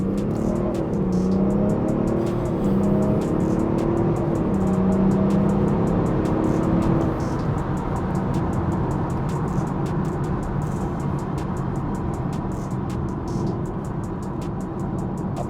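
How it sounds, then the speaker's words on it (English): A nearly 500 horsepower BMW 335d with a tuned N57 diesel engine accelerates hard, giving a loud, steady engine drone heard from inside the car. Its pitch climbs and then settles, with no talking. "We all want to know what this is actually like when you put your foot down."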